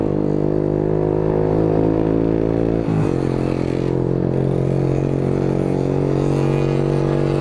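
A motorcycle engine runs steadily and loudly close by, a continuous droning hum with a brief pitch dip partway through.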